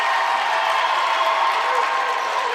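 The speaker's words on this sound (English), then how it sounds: "And the crowd goes wild." Steady roar of a crowd cheering at a varsity high school basketball game, a continuous loud wash of voices and applause without pauses.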